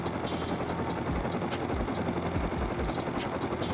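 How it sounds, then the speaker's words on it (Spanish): A helicopter in the Rust video game flies steadily with a loud, continuous rotor and engine drone, its rhythmic blade chop carrying through the whole stretch. "Estoy en un helicóptero, ¿sabes? Es lo que tiene volar."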